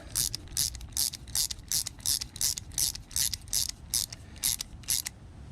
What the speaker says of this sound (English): I got 10 on the bolt head, crescent wrench on the nut head. Just gonna tighten it down.